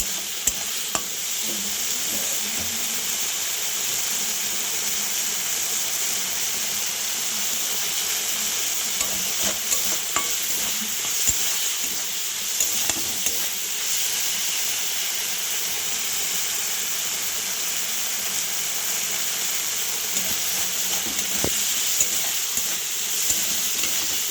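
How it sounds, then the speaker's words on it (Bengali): Shrimp fry in hot oil in a pan, giving a steady loud sizzle and hiss, with occasional scrapes and clinks as they are stirred. The sound runs continuously and has no talking. "চিংড়ি মাছটা মোটামুটি একটু হালকা করে ভাজা হবে। আমি একটু নাড়ানাড়ি করে নিচ্ছি।"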